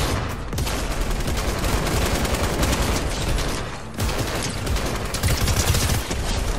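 LMG machine gun fire in Fortnite, a dense, continuous roar of rapid shots with a brief dip midway, loud and close throughout.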